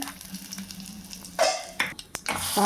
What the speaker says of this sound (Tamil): நல்லெண்ணெய் விட்டுடலாங்க கடுகும் பெருங்காயத்தூளும் சேர்த்துடலாங்க